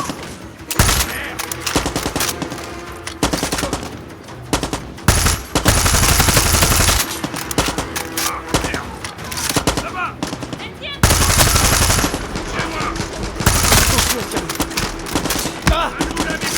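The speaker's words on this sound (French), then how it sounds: "Quelqu'un tire." Gunfire in the video game Far Cry 6: loud bursts of automatic machine-gun fire and single shots crack out in irregular volleys, with brief quieter gaps between the heavy bursts.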